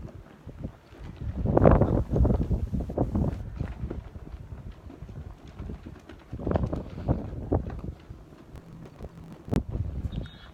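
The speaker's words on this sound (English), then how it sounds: "So the wind is very strong." Strong gusts buffet the microphone at a seaside Spanish fort in Puerto Rico. Heavy rumbling bursts rise and fall unevenly, loudest early on and again later.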